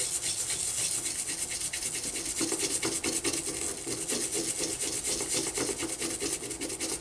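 Mac LC II circuit board scrubbed with Goo Gone to clear leaked electrolyte, a continuous close brushing rasp in quick back-and-forth strokes, steady and fairly quiet with no talking.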